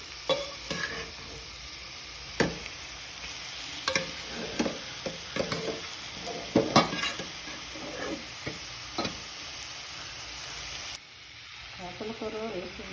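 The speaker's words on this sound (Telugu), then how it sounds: "చేపల కూర ముక్కలు వేసిన తర్వాత తిప్పకూడదండి. 5 నిమిషాలు మగ్గనిద్దామండి." Fish pieces cook in curry in a pan, giving a soft continuous sizzle broken by clicks and taps near the pan, with brief faint talk.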